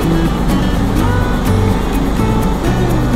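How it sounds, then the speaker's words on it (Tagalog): Road traffic heard from a vehicle, a loud steady engine drone with rumbling and passing-vehicle noise throughout and occasional sharp knocks. "Traffic na naman mga ka-business."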